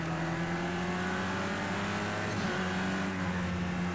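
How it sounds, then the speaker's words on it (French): A steady, loud Opel Astra race car engine drones at Brno in Project CARS 2, holding a constant high-revving note with a brief dip and recovery midway. "on va mettre un petit peu cette Opel Astra en température et on va attaquer un tour chrono de cette mythique piste"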